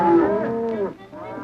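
A cow on a cattle drive lets out a single loud, close moo lasting about a second.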